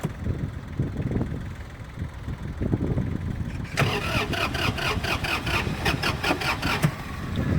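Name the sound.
compact tractor engine starting and idling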